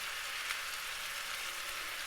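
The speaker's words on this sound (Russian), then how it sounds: "мясо, жареное с луком" Beef and onion fry in a pan for goulash, giving a steady, soft hiss of sizzling fat with faint crackles throughout.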